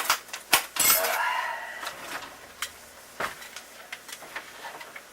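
A knife slices a potato into steak fries on a board, with a few sharp knocks and a scraping cut at the start, then scattered lighter taps and clicks, close by.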